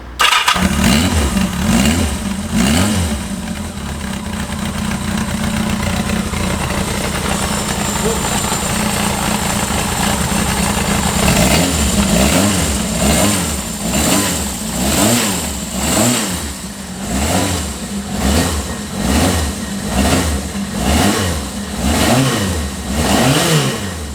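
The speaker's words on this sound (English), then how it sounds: "I'll just shut the camera down and I'll start this bike for you" A 1979 Yamaha XS1100 motorcycle starts and settles into a steady, loud idle close by, then is blipped through a long run of rhythmic revs that rise and fall again and again.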